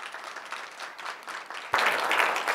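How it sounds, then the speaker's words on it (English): Applause from an audience at a water-themed talk as the guest speaker is welcomed, lighter clapping at first that suddenly swells louder and fuller partway through and keeps going. "let's welcome her with a round of applause."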